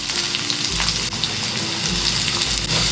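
Chopped onion drops into hot oil in a pan, already seasoned with mustard seeds and green chillies, and sizzles in a continuous, close frying hiss.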